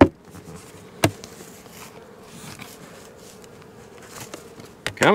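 Honey bees buzz steadily at a hive while a beekeeper works nearby, a low continuous hum broken by a few sharp knocks and clicks at the start and near the end.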